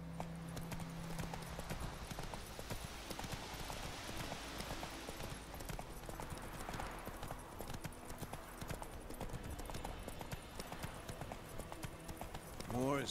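Roach, a horse in the Witcher 3 video game, gallops in a steady clip-clop of hooves under ambient game sound, fairly quiet and continuous.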